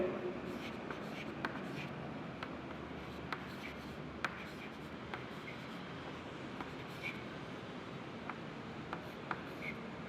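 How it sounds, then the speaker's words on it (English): Pen or marker writing out codons by hand, a steady scratchy scribbling with short ticking strokes running throughout at close range against a quiet room background. "So let me write few codons over here."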